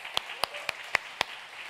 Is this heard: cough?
no